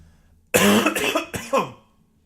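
A close, loud cough bursts out in three harsh hacks after a brief quiet moment, then fades to silence.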